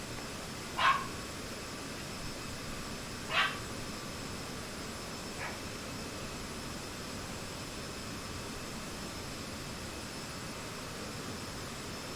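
A dog barks three times, spaced a couple of seconds apart and fading slightly, heard faintly over a steady jet engine drone from an aircraft cockpit.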